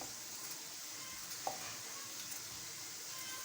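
Chopped tomatoes going into a pan of sizzling achar gosht, a soft even frying hiss with a small clink, quiet and continuous.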